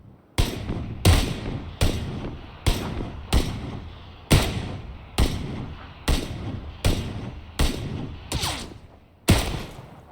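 Heavy gunshots from a video game fire one after another at a steady pace, about a dozen loud booming blasts each trailing off briefly.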